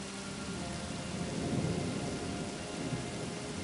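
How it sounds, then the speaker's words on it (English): Thunderstorm with rain as an audio drama sound effect: steady, dense rainfall with a low rolling rumble of thunder that swells in the middle, continuous and moderately loud with no voices. "That storm's closing in. This drizzle's about to turn ugly."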